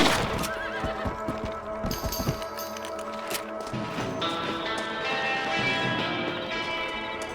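Horses in the Red Dead Redemption video game neigh and whinny loudly, with clip-clopping hooves early on, alone without talk.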